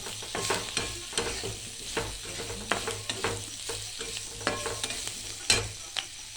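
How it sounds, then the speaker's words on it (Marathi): Chickpea and potato curry with turmeric sizzles in a frying pan while a spoon stirs it. Repeated scraping strokes sound close over a steady low fry. "पुन्हा एकदा हलवून घ्यायचा आहे आता आपण बटाटे टाकणार आहोत"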